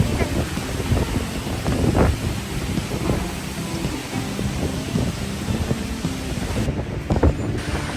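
Strong, cold wind buffets the microphone at Sipiso-Piso waterfall in North Sumatra, a steady loud rushing roar with gusty low rumbles throughout.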